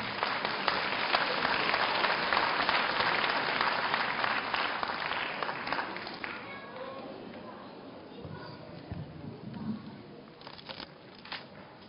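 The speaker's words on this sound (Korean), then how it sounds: "큰 박수로 환영해 주시기 바랍니다." Applause from a university degree ceremony audience welcoming the president to the podium, a dense sustained clapping that gradually thins and fades after about six seconds into scattered claps.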